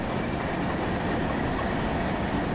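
A freight train hauling empty backhauls on the old Delaware & Hudson line passes, a steady, dense rumble and rolling roar with no breaks or voices.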